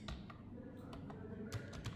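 Someone types on a computer keyboard, producing a brief burst of close, irregular key taps and clicks with no speech.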